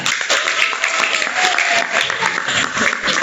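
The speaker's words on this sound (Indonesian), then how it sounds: "Tepuk tangan" Audience clapping in a classroom during a teaching performance exam, a brisk burst of applause with sharp, rapid claps that holds steady for a few seconds.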